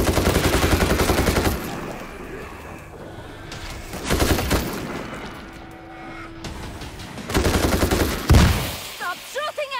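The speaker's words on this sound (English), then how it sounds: "Stop shooting at me!" Rapid automatic gunfire in a World War Z video game comes in three loud sustained bursts separated by short pauses, with brief chattering shots near the end.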